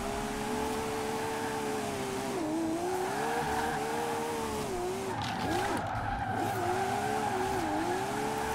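Car tires slide and squeal continuously in Forza Horizon 4 while the engine hums in second gear, a wavering high-pitched screech rising and dipping over a steady engine drone, close and sustained.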